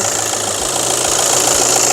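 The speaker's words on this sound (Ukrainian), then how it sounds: "Двигун працює нормально." A Volkswagen Touran 2.0 TDI diesel engine idles steadily up close, a constant low rumble with a slight knocking texture and no voices.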